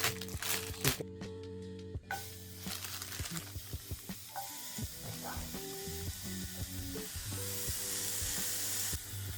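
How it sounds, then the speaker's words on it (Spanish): Burger patties sizzling in a pan during a night riverside cook on an island, a steady crackling fry with small pops and utensil clinks, close up, with people talking over it. "Se escuchan a más los patis."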